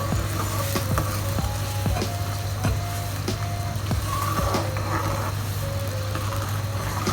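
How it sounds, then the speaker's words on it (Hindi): Aloo baingan wadi masala sizzles and fries steadily on a high flame while being stirred, with a constant close hiss, a low steady hum and repeated scraping knocks of the spoon against the pan throughout. "और 2-3 मिनट तक हमें इसे इसी तरह चलाते हुए पकाना है।"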